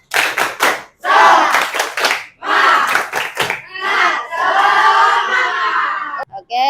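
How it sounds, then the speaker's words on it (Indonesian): A class of students in an Indonesian lesson claps a rhythmic spirit-clap pattern while chanting together, with loud bursts of group voices and sharp hand claps filling the room. "Coba tepuk semangat"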